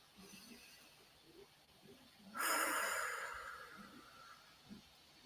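A single slow relaxation breath, a soft rushing exhale that swells and fades over a couple of seconds, heard close and quiet against a faint background.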